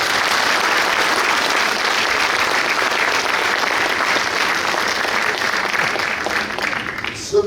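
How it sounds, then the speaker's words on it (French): An audience at a mayor's New Year address in France applauds the town's volunteer associations, with sustained, dense clapping from a large hall crowd that holds steady for several seconds and then thins out. "vous pouvez les remercier et les applaudir"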